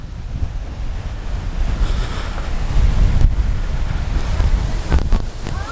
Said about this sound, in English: A lot of wind, yes.